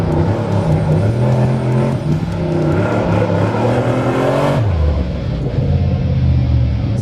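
A Pro Light race truck engine revs hard and loud, climbing in pitch through several surges before dropping sharply to a deep, rumbling idle.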